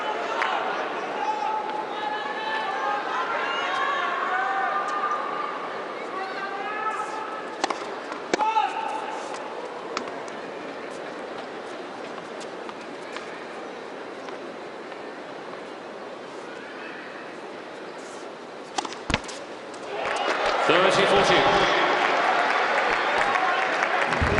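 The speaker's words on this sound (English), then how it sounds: "each and every point that Federer and the Aces win today will be greeted by a loud cheer" A tennis crowd at a match involving Federer applauds and cheers, a continuous clapping wash that fades, then swells again near the end, under a commentator's voice.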